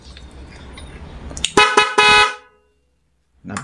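A double-contact car horn on its third mode blasts in a short sequence of loud, bright toots. Several quick honks run for about a second, then the horn cuts off into silence before another burst begins at the end.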